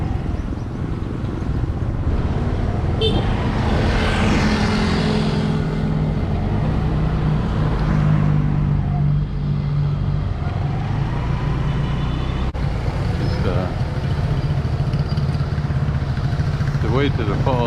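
Scooter riding along a road toward a mountain falls, with a continuous close engine drone and wind noise throughout and people talking over it.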